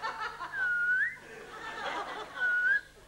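A man whistles to mimic a squeaky wheelbarrow wheel, with two short rising squeals separated by a pause, heard up close against a murmur of audience laughter.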